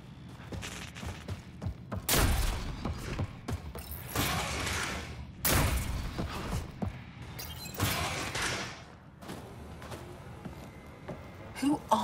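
Gunfire in the PC game Mass Effect Andromeda during a Kett base attack: several loud broadband bursts spaced a few seconds apart, mixed with thumps and clatter, with speech in between.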